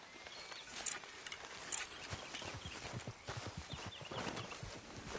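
Horse hooves clip-clop steadily at a walking pace while riding in Red Dead Redemption 2, close and fairly loud over a faint outdoor ambience.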